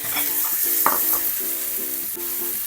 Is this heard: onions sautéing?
yes